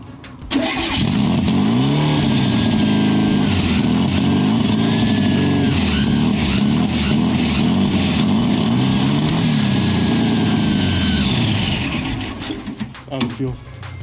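A VW 2276 turbocharged engine fires up and runs loud and steady at close range for about eleven seconds, then sputters and dies as the fuel runs out, with voices speaking over it.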